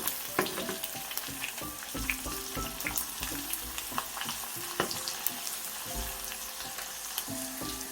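Thin slices of food sizzle steadily in a hot pan on a four-burner stove, with scraping stir-and-flip clatters of a utensil breaking through the frying hiss every second or so, close and fairly loud.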